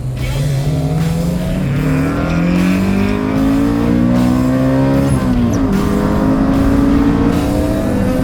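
A K24-swapped Toyota MR2 revs hard in a drag race, climbing through the gears, its pitch rising steadily before a brief shift, with a loud, sustained roar throughout.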